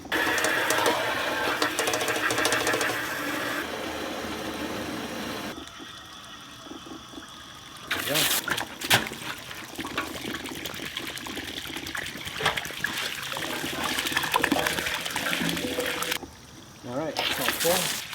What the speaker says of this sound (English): we're going to spray this with some water and get rid of all the vinegar